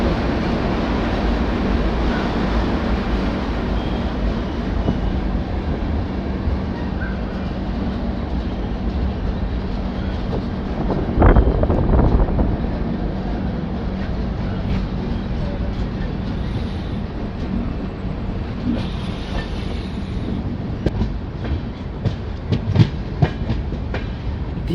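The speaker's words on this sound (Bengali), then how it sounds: "ধীরে ধীরে ভুবনেশ্বর স্টেশন ছাড়িয়ে ট্রেন বেরিয়ে যাচ্ছে।" The Digha–Visakhapatnam Express pulls slowly out of Bhubaneswar station, a steady broadband rumble of wheels and carriages with occasional clickety-clack joints and a louder clattering burst midway, continuing evenly throughout.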